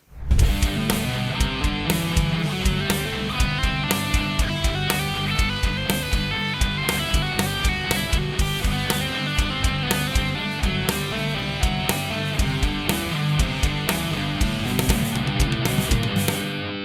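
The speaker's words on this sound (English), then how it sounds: "When we are doing legato, our aim is to make sure that it goes from one note to the next as smooth as possible" Electric guitar played legato, a continuous stream of smooth, connected notes with steady volume and no picked attacks, alone and fairly loud throughout.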